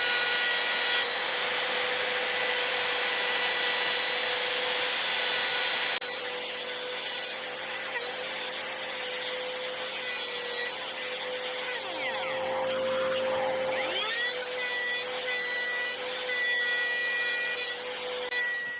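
A router cutting a cavity in a wooden electric guitar body with a flame maple top, a steady high whine with a coarse grinding layer, loud and continuous, dipping briefly in pitch as the bit bites deeper.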